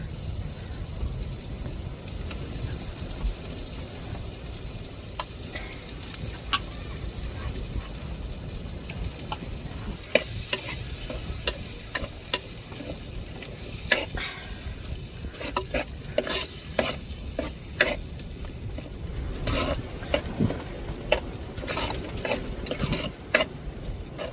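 Ground masala paste sizzles steadily in a pan with tomato and chili for a fish curry. A spoon scrapes and stirs it with repeated clinks, and no one speaks.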